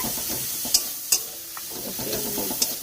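Tomato, ginger and garlic fry in hot oil in a pan, giving a steady close sizzle with stirring scrapes and a few sharp spatula knocks.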